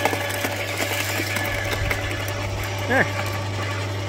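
Ozito garden shredder running, a steady mechanical drone with a low constant hum, near and continuous, while material is fed in; a person briefly speaks once over it.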